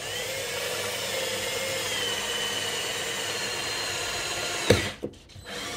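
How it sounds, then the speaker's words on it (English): A power drill fitted with an ordinary drill bit whirs steadily as it bores slowly into a laminate floor, ending with a couple of sharp knocks as it stops. "So I'm just using a normal drill bit in my drill."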